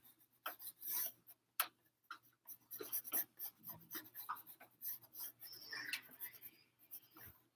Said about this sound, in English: I'm going to draw this here.